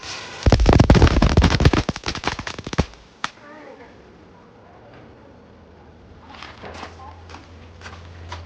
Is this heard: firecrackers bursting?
yes